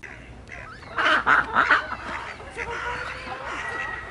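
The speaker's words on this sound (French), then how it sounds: "Deux canards sont sur une mare. L'un fait coin-coin" A few ducks quack in a quick burst of nasal calls, then quieter calls trail off against an outdoor background.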